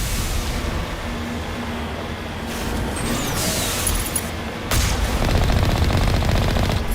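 Rapid gunfire and rocket blasts from enemies in a Mass Effect firefight, a dense crackle of shots over a steady rumbling battle din that grows louder and busier toward the end.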